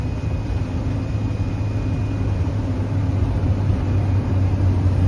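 A loaded Leyland truck pushes hard up the Lonavala ghat road at top speed, its engine holding a loud, steady, continuous drone from inside the cab with no break.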